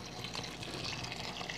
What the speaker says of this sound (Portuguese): Agora eu vou entrar com a água fervida aqui pra cozinhar